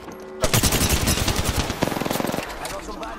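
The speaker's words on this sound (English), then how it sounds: "Shots fired at me." Loud, fast machine-gun fire in Apex Legends erupts after a brief lull and rattles on for about two seconds, then cuts off into quieter in-game ambience.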